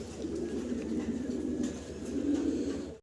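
Pigeons coo continuously in low, rolling murmurs, close and steady, with faint background noise.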